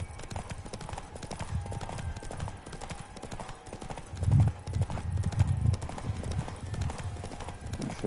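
Hoofbeats of Roach, the horse in The Witcher 3, galloping in a fast, rhythmic clip-clop that runs steadily, with heavier thuds partway through, alongside game music and ambience.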